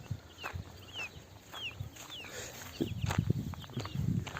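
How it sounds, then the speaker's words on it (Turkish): Village chickens cluck and chirp intermittently nearby, with high peeping calls and scattered rustling and knocking in an outdoor yard. "Şurada da bizim tavuklarımız var arkadaşlar. Onlar da köy tavukları."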